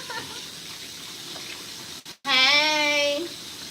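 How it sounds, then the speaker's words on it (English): Water running from a tap into a sink during dishwashing, a steady broadband rush that cuts out briefly and resumes, with a tonal squeal or whine riding over the flow near the end. "I got too much shit to wash."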